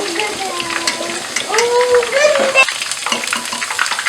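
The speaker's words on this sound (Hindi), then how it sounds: "अब लहसुन को हम गोल्डन ब्राउन होने तक पकाएंगे।" Garlic frying in a pan toward golden brown, a steady sizzle under a stirring utensil, with a voice speaking over it for stretches.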